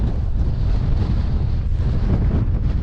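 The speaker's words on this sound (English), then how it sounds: "it's a little bit windy" Strong wind on the Great Ridge hill walk from Lose Hill toward Mam Tor roars and buffets the microphone in a loud, continuous rush, with no other sounds standing out.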